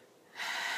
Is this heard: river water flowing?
no